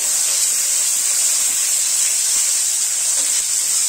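Tomatoes and golden onions fry in a pan for paneer butter masala, giving a steady, loud, bright hiss of steam and sizzle that holds unbroken throughout.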